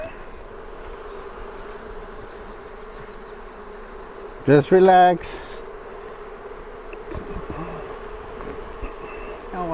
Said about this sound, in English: You hear the buzzing?